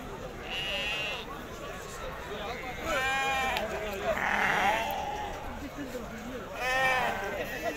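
Sheep bleat repeatedly at a Tuesday livestock market in Azrou on a rainy day, several loud, wavering calls close by and spread through the stretch, with people talking and a busy crowd murmuring underneath.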